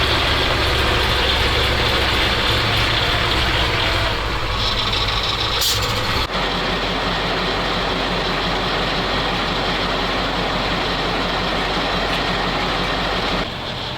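A ZIL 4975 truck engine idles off-road near a muddy rut, a steady loud low rumble running throughout, with a brief change in tone around the middle and no speech over it.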